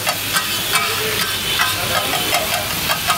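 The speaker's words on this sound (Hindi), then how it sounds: "पनीर भुर्जी वाला तड़का ही लगाएंगे यहाँ पे, जबरदस्त टमाटर वाला" A tomato tadka for paneer bhurji sizzles steadily on a street-food griddle cooked in desi ghee, a constant close frying hiss broken by regular sharp scraping stir strokes, with no talking.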